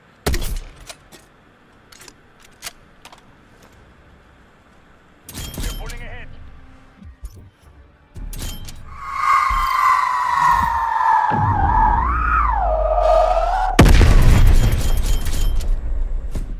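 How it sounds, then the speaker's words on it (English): In the Black Ops Cold War video game, a spawn tube fires on the Satellite map and ends in a loud, sudden explosive burst. Wavering tones and scattered clicks come before it, and a voice talks over parts of it. "you're just going to shoot"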